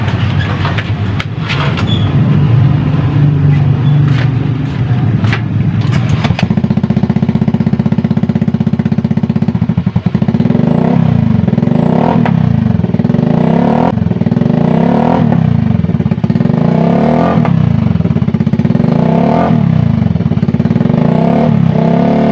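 A motorcycle fitted with an NLK open pipe exhaust revs loudly and close, with a steady raw drone followed by repeated rising and falling throttle blips in a regular rhythm.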